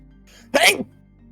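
A single sharp sneeze bursts out during a tabletop role-playing game session, loud and close, set against quiet room noise with faint talk before it.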